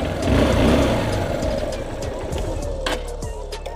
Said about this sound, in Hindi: बाइक बिल्कुल अच्छे से स्टार्ट हो चुकी है।